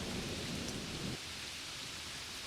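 Rain pours down steadily as a story sound effect, a dense, even hiss of drops on surfaces with a heavier rumbling burst in the first half before settling into a lighter shower.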